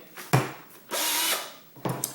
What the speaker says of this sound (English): Now the first thing I'm going to do is drill a few in the center